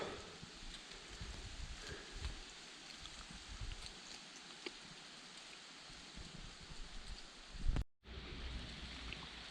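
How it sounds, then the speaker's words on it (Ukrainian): Gentle breeze stirring leaves in a forest, with a soft, steady rustle and faint patter that continues almost throughout, broken by a brief dropout near the end. "Подув вітерець, як листя падає з дерев."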